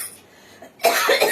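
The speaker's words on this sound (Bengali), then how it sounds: "তো কাশিও হচ্ছে দেখো আমার অনেক," A woman coughs once in a sharp, loud burst at close range after a brief quiet moment.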